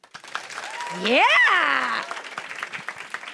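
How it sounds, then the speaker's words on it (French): Crowd at a live French-language talk show taping claps under a loud, rising whoop from one voice at its centre. Scattered clapping continues faintly on both sides of the cheer. "Par applaudissement, qui nous connaît ici?"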